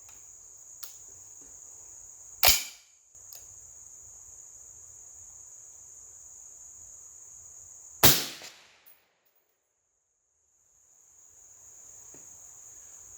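Two sharp rifle shots ring out at a shooting range several seconds apart, each a loud crack with a brief decaying echo, against a steady background of chirping crickets.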